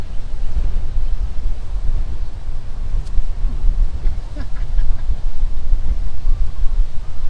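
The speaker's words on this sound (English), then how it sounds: "it's really windy." Gusty wind batters the microphone on an open disc golf course, a loud, uneven low rumble that persists throughout with faint incidental sounds.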